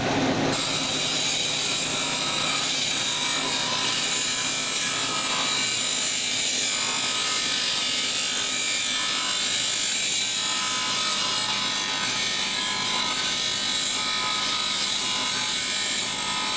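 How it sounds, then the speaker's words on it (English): A cabochon stone held on a dop stick being ground on an 80 grit wheel, a continuous loud gritty rasping whir that stays constant throughout with no pauses. "I'm going to start on the 80 grit wheel here."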